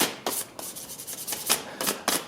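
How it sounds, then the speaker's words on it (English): A woodturned handle for a bowl gouge is polished by hand with 400- and 1000-grit sandpaper and a gray abrasive pad. Short, quick rubbing strokes come one after another in an uneven rhythm, close and fairly loud. "take some sandpaper, got some 400 here and some 1000, and then some of this gray abrasive pad, and you can just polish these up a little bit"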